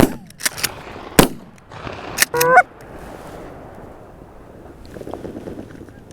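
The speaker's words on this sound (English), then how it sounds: "Yep. Geese. Sounds like another 50 or so." Geese honking in flight during a goose hunt, a cluster of loud, close honks over gusty wind rumble on the microphone, followed by quieter, more distant calls.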